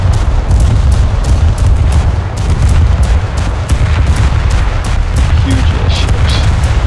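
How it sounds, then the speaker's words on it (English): Heavy warship guns firing in the naval battles of War Thunder, a dense, loud barrage of booming blasts and gunfire rolling on without a break, no voices over it. "This is the strongest warship in the game currently, I think. Like, gun size-wise."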